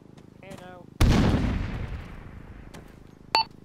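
A single heavy grenade blast in the ArmA 3 video game, sharp and loud with a long decaying rumble, followed by a brief distant crack and faint radio-style voice chatter.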